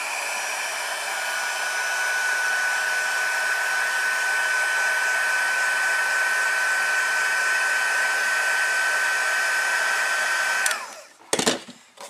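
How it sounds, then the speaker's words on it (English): Heat gun blowing steadily over gold Encore embossing ink on a paper craft piece, a loud constant whoosh that runs for about ten seconds before clicking off. "then I'm going to hit this with the heat gun real quick"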